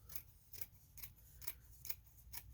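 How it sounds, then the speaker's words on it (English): Scissors snip steadily through placemat fabric, about six crisp cuts in an even rhythm, close and quiet, with no voices. "And I'm just going to use scissors"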